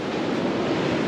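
Steady surf from the sea close by on the shore at Prampram, a broad continuous wash of breaking waves with some wind, loud and unbroken with no voices.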